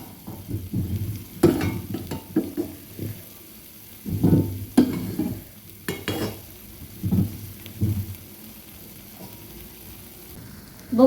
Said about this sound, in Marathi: बघू शकता इथं आपला मसाला मस्त असा फ्राय होत आहे।